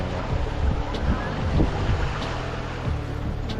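A sailing yacht running downwind at sea with butterfly-rigged sails, waves washing and sloshing around the hull amid steady wind rumble on the microphone, continuous and fairly loud.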